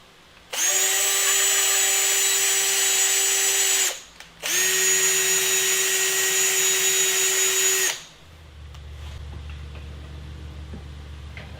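A cordless power drill threads holes for a boat seat tool holder, whining loudly and steadily in two long runs with a short pause between them, then a quieter low hum follows.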